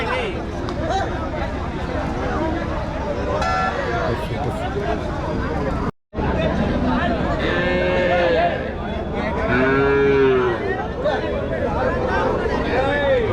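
Heifers and other cattle at a village cattle market, amid a busy crowd of people talking; several drawn-out animal calls rise above the babble, most clearly toward the end.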